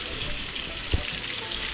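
Chicken pieces sizzle steadily in oil in a pot for Afghani chicken curry, a close, even frying hiss with one brief soft knock midway.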